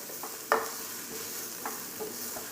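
Chopped onion sautés in a pan with a steady background sizzle. Several short stirring scrapes cut through, the loudest early on and softer ones after, and no one speaks.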